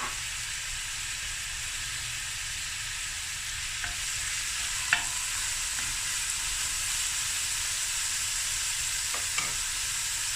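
Onions frying in oil with two cinnamon sticks and two cardamom pods in a pot over medium heat, a steady close sizzle throughout with a few faint clicks and stirs, no talking.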